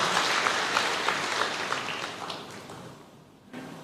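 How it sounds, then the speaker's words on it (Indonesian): A church congregation applauds during a sermon, steady clapping that gradually fades and thins out before a voice resumes near the end. "Berikan tepuk tangan yang meriah buat Tuhan."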